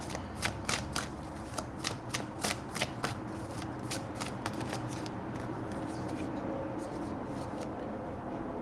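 Tarot cards being shuffled by hand, a quick run of crisp riffling flicks and soft slaps that repeats steadily for several seconds, close and clear with nothing else over it.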